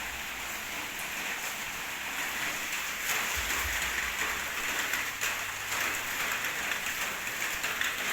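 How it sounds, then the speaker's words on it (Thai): Steady rain pours down outdoors in an even, continuous hiss, with a low rumble surfacing briefly midway and no voices. "ท่ามกลางสายฝน ที่โปรยปลายลงมา"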